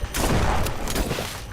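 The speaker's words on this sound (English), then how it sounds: "I'm gonna shoot you with my shotgun, man." Shotgun blast in a horror video game, a dense, loud burst of gunfire sustained across the moment with broadband roar and a couple of sharp cracks near the end.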